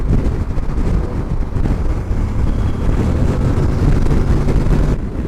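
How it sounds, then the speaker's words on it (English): Strong wind buffets the microphone in a steady, rumbling roar that barely lets up, with no voices. "really, really windy day today."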